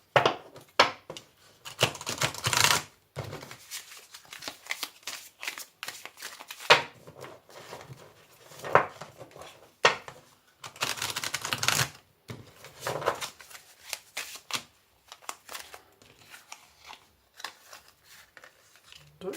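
Tarot cards being shuffled by hand produce crisp, rapid flicking and riffling in separate bursts, each lasting a second or two, with short pauses between them, up close.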